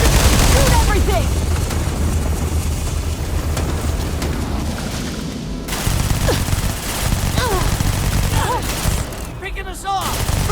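A firefight in Starfield, with bursts of rapid gunfire and heavy shots, rattling on continuously under shouted voices.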